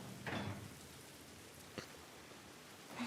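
Soft, steady rain patters in the video game The Last of Us Part I, a faint, even wash of droplets with a couple of brief muffled thuds and no talking.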